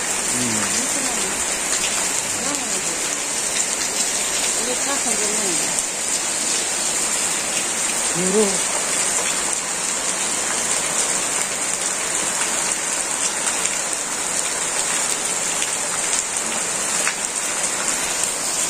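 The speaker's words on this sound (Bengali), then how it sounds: "যেমন বাতাস তেমন বৃষ্টি, আবার একটু বাতাস ছাড়ছে" Steady, heavy rain pours down in a constant hiss, with gusts of wind and a faint voice briefly audible beneath it.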